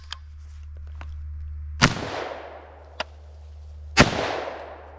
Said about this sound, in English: So let's start with the first 2 rounds unsuppressed.